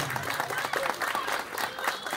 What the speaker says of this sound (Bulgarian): сега вашите аплодисменти за тези прекрасни момчета